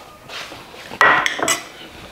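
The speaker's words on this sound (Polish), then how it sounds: "Garnek przekładam tutaj obok." A metal pot scrapes and clanks as it is shifted across a hard kitchen surface while making apricot jam, a few sharp close knocks in quick succession.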